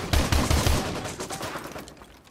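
Rapid bursts of gunfire from Modern Warfare 2 Remastered: a quick run of four or five loud shots up front, then scattered fainter reports and echoing fire trailing off.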